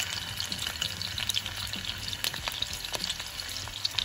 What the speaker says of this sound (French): 5 minutes après d'avoir mis mon magaret dans la poêle, pas très fort, hein. Là, le côté avec la peau, elle est bien saisie.